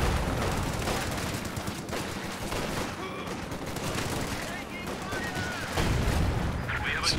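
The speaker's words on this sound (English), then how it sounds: "Some new grenades out there." Grenades and gunfire burst across a Company of Heroes 2 battlefield in a 2v2 match, with dense overlapping bangs and crackling shots, one heavier blast near the end.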